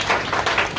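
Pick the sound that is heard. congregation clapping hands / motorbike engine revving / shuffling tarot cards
congregation clapping hands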